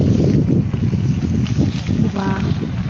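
Strong, cold wind blows outdoors and buffets the microphone with a continuous low roar. Gusts swell and ease throughout.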